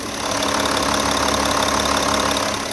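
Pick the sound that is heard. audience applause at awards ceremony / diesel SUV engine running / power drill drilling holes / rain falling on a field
diesel SUV engine running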